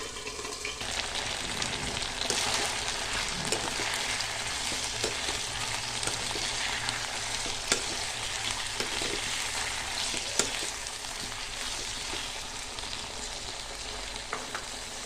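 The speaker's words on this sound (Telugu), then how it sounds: "దొండకాయల్ని ఇలా ఆయిల్లో వేసుకోవాలి. ఇలా ఆయిల్లో వేసుకున్న తర్వాత అన్నీ చక్కగా కలిసేటట్టు కలుపుకోవాలి." Ivy gourd (tindora) frying in hot oil for a masala gravy curry: a steady, close, crackling sizzle with occasional stirring clicks and pops, no talking.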